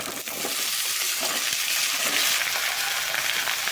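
Potatoes sizzle and crackle in hot oil, a dense, steady frying hiss with occasional scraping from stirring, close up and without talking.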